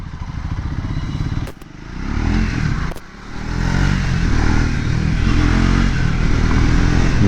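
Triumph Speed 400 motorcycle ridden on the road, its engine droning loudly and close, dipping briefly twice before revving back up to a sustained, steady roar.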